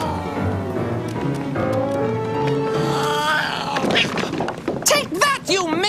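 A cartoon cat yowls and caterwauls over a busy orchestral score, its wavering cries rising loud near the end after music and voices fill the start.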